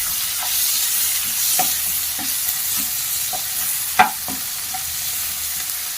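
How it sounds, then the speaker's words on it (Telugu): Green chillies and chopped tomato frying in a pan, a steady sizzle underneath occasional stirring scrapes and one sharper clink, close and alone with no voices. "అవి కూడా ఇలా యాడ్ చేసుకొని ఫ్రై చేసుకోండి"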